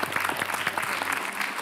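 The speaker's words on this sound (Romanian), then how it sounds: "Haideți să-l aplaudăm." A studio audience on a Moldovan talk show breaks into sustained, dense clapping that fills the whole stretch evenly, with no voices heard.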